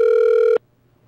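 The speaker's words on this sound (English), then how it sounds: "I'm gonna call Mark the guitar player" A steady electronic telephone tone sounds loudly for about half a second during a call, then cuts off abruptly into near silence.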